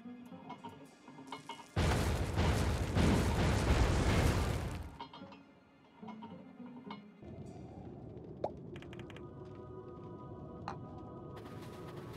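A bomb goes off in the video game Oceanhorn: Monster of Uncharted Seas, a loud, dense blast roaring for about three seconds before dropping back to steady game ambience with a few small clicks.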